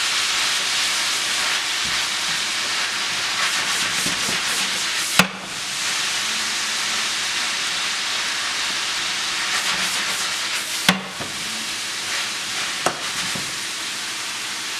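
Vegetables frying in oil in a pan give off a steady, broad hissing sizzle that holds for a long stretch, broken by a few sharp clacks and knocks, with no talking.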